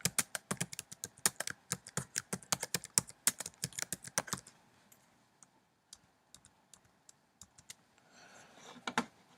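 Typing on a computer keyboard, with a dense run of close, sharp key clicks that thins out into a few scattered taps and one final burst, no voices.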